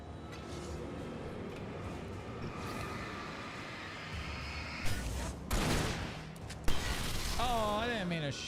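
In Alan Wake, a few sharp gunshot bursts ring out in the middle of a quiet, rumbling scene. A voice speaks near the end.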